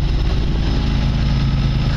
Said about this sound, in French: On peut entendre le bruit moteur